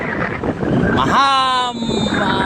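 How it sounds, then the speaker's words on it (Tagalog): Steady roaring wind buffeting a microphone high up while parasailing, with a brief harmonic voice-like tone rising in the middle; loud and continuous throughout. "malakas ang hangin dito sa taas"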